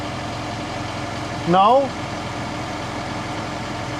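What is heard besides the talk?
tractor hydraulic fan running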